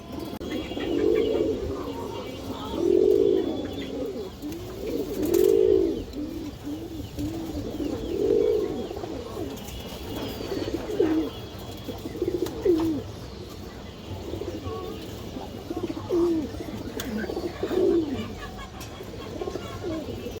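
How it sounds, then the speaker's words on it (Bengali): Indian high flyer pigeons coo in a repeated low rhythm, about every two seconds, over a constant background murmur of other birds and room noise. "একটা হারিকেন লাইনের মাদি কবুতর দেখাবো।"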